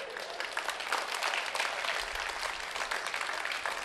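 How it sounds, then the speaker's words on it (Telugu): Hands clap in a fast, continuous patter, fairly faint and steady, like applause from a small group or one person clapping rapidly. "చప్పట్లు కొడుతున్నాను అంతే"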